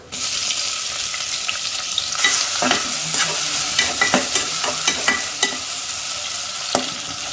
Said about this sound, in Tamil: சின்ன வெங்காயம் ஒரு 15 கட் பண்ணி வச்சிருக்கேன், இதை சேர்த்துக்கலாம்.